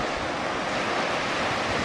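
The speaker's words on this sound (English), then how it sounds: "Down here on Porthleven beach itself, beautiful waves rolling in and they tumble pebbles beautifully." Sea waves roll onto a pebble beach at Porthleven, Cornwall, a steady close broadband rush of surf with wind, no voices.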